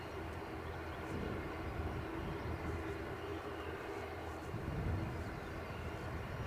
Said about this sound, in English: So we've got a Ryanair off on its jaunts.